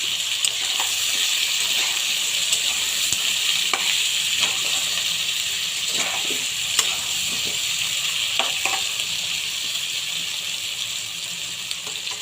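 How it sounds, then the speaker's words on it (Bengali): Vegetables sizzle and crackle as they are stirred in a hot pan while cooking a Bengali Malabar spinach and prawn dish, with a steady, close, loud hiss and scattered small pops throughout, with no talking. "তো সবজিগুলো অনেকটা ভাজা ভাজা হয়ে এসছে।"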